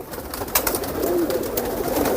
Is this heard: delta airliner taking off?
no